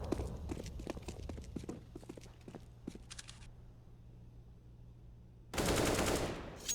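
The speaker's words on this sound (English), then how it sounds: "Crack manages to get one with the AK" AK rifle fire in a Counter-Strike match on Mirage, with scattered gunshots and footsteps early on, then a loud sustained burst of fire near the end against a low hum.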